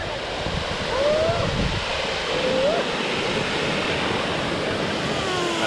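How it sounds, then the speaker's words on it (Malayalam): Water rushes continuously at a triple waterfall near Kattappana in Idukki, making a steady, moderately loud broadband roar with a faint whoosh of wind across the microphone and a few thin, high chirps. "ട്രിപ്പിൾ വാട്ടർഫാൾസ് ആണ് ഇവിടെ പറയുന്നത്."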